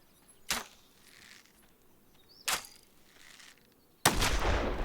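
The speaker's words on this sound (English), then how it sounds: "They're firing through the wood, which makes sense" In This Land Is My Land, two sharp isolated gunshots ring out about two seconds apart over a quiet outdoor background, followed by a sudden louder burst of sustained firing and noise at the end.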